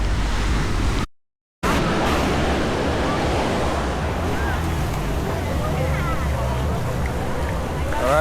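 Steady rush of surf and wind at Ipanema Beach, Rio de Janeiro, on a Sunday morning, with a faint babble of distant voices mixed into the constant roar after a brief dropout.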